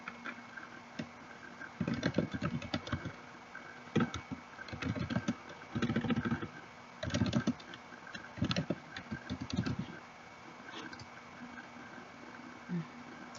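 Typing on a computer keyboard while entering words into repositionable labels, bursts of quick soft key clicks separated by brief pauses, faint and close.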